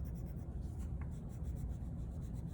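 A crayon rubs steadily across paper while coloring a bee headband craft, a soft, faint, continuous scratchy scribble close to the microphone.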